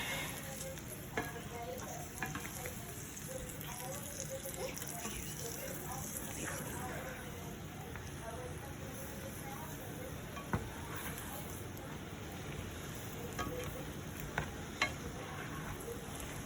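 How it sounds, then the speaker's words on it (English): Food being tossed around in a sizzling pan with a spatula, a steady hiss of frying with occasional sharp scrapes and clicks, while a person talks faintly over it. "I'm going to toss everything around"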